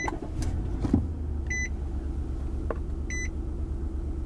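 A rough-running car engine with a check engine light is started again and settles into a low, steady rumble, with two short electronic chime beeps sounding over it.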